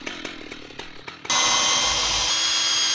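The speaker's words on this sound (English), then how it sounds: "did a little bit of chainsaw milling" A chainsaw mills timber into slabs: a few light knocks and clicks, then the saw abruptly roars to full power and holds a loud, steady, close buzzing whine through to the end.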